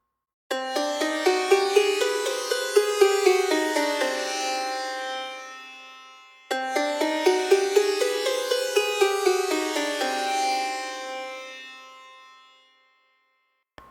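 A bright, bell-like melody rises through a Hungarian minor scale note by note, then repeats the same run, each note ringing and fading.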